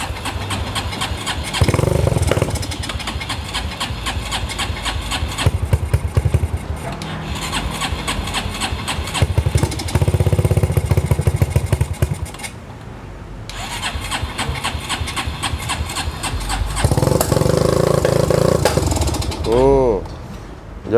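A Honda Megapro motorcycle engine runs rough and misfires, with loud, uneven coughing and sputtering bursts that break off in gaps and then start up again, heard up close.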